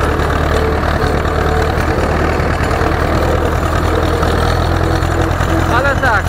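Ursus C 360 tractor engine running steadily while driving slowly, a loud continuous low diesel rumble and chugging close by, with a person speaking over it.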